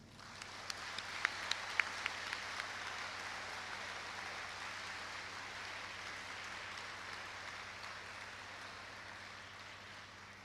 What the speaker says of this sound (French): à nous de lui témoigner notre reconnaissance par ce concert d'applaudissements.